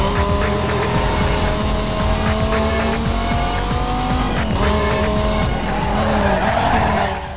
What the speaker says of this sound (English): Whoa, this car has some drift to it.